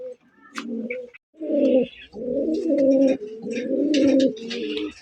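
A pair of Indian Mumbai pigeons, one white and one yellow, coo in repeated throaty bursts close by, with a few faint chirps from other birds between calls.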